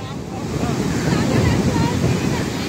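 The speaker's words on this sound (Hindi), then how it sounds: "पानी बहुत ही ज्यादा चोल मार रहा है समंदर" Rough sea waves crash and surge at Karachi beach, a loud, continuous churning roar of surf with wind buffeting the microphone, close and steady throughout.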